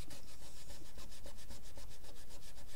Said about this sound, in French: Et ça, faut frotter, hein.